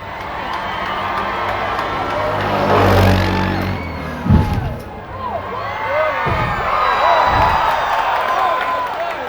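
Large crowd at an X Games ATV flip event cheering and applauding, a dense roar with shouts and whistles rising and swelling across the whole stretch, commentary voices mixed underneath.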